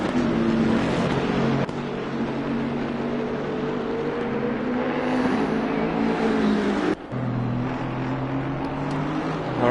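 Racing car engine in Assetto Corsa Competizione at Oulton Park drones loud and steady, with a brief dip near the seventh second like a gear change before the roar picks up again.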